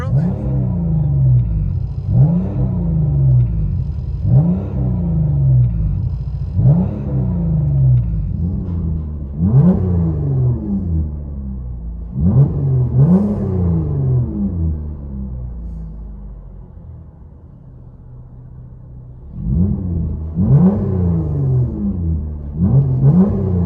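Chrysler 200 with a 3.6L V6 and straight-pipe exhaust, muffler resonator cut off, revving loudly in a series of rhythmic blips with a pause before a final burst of throttle.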